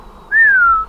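A single clear rising-then-falling whistle, sustained for about half a second, imitating a bird call against faint background hum.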